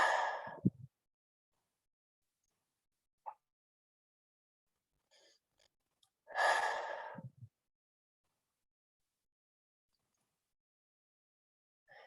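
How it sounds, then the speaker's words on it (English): Two deep breaths, each with a long, airy exhalation, close and quiet, separated by a long near-silent pause with only faint small sounds between them. "take 2 deep breaths. Make that exhalation a little bit longer than the inhalation"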